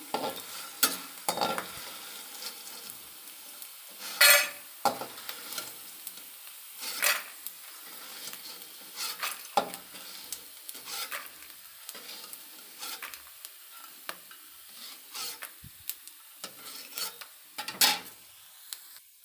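Edible gum (gond) frying in a pan over medium flame for gond laddoos, with repeated scraping stirs and soft sizzling in irregular bursts, close and alone without talk.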